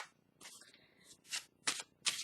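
Tarot cards are shuffled and drawn up close at a low level, giving a few soft riffling swishes and crisp card snaps in quick succession.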